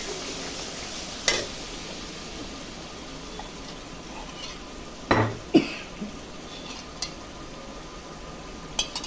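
Sour yogurt going into a hot pan in a home kitchen, giving a soft steady sizzle with a few sharp clatters of a spoon or bowl against the pan.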